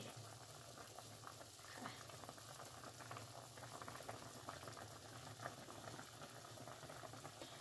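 A pot of Thai mushroom curry at a steady rolling boil, a continuous soft bubbling and gurgling heard close, with faint voices in the background.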